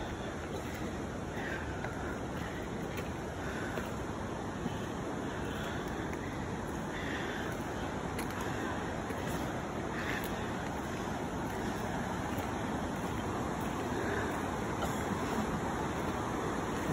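Steady, loud rush of water at Twin Falls near Smithers, British Columbia, a dense continuous roar that never lets up, heard alone without voices.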